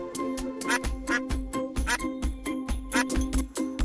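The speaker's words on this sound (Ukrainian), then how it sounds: "Качка каже кря кря." Repeated nasal duck quacks in a steady, quick rhythm, fairly close, mixed with light jingling clatter and no talking.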